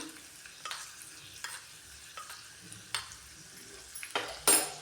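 Garlic fries in oil and ghee with a soft, steady sizzle, punctuated by several sharp spoon taps and scrapes against the pan, close and fairly quiet, with no one talking.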